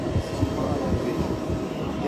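Presidential aircraft landing at Mbuji-Mayi airport: a broad, steady roar of aircraft engines fills the scene at moderate distance, with crowd voices mixed in beneath it.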